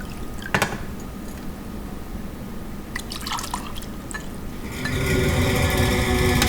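Drinking water is poured into a glass, starting with scattered drips and splashes. Then comes a louder, steady gushing stream near the end.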